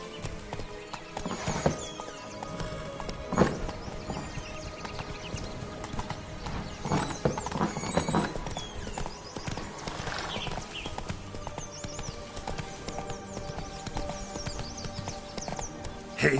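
Roach, Geralt's horse in The Witcher 3, gallops in the Toussaint region with rapid, uneven hoofbeats and a few loud neighs and snorts, close and prominent over a busy game backdrop.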